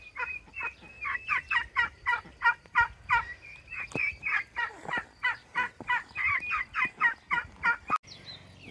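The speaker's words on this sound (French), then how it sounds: "les dindes blanches ont 11 semaines" Eleven-week-old white turkeys gobble in a crowded flock, a steady run of close, rapid warbling calls that rise and fall in regular bursts, with no talking.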